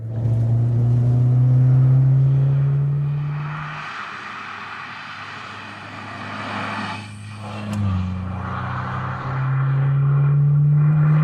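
A 1987 Fiat Uno Turbo engine drones loudly at full throttle in third gear and rises in pitch as it accelerates, eases off midway, then climbs again at high revs, close by, with no speech.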